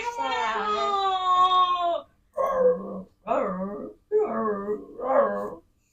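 A voice imitates a snake with a harmonic, strained growl-like sustained sound, then several shorter voiced growling bursts in rhythm, close and fairly loud, with no spoken words.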